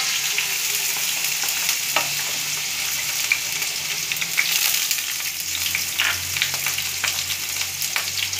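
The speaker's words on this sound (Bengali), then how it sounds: "দেখুন আমার কড়াইয়ে তেল গরম হয়ে গেছে। এবার আমি গাজরটাকে ভেজে নেব।" Carrots sizzle in hot oil in a wok, a loud and steady frying hiss with occasional stirring scrapes, close up and with no talking.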